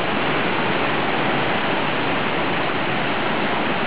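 Water pouring out of a large water slide pipe at an outdoor water park, a loud, steady rushing splash with no breaks, close by and filling the whole stretch.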